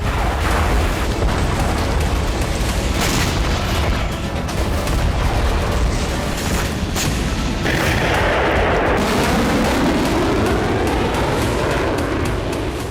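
Russian army artillery fire and explosive strikes in Ukraine: a dense, continuous roar of heavy blasts and booms, loud and chaotic throughout, with rumbling bursts layered over one another.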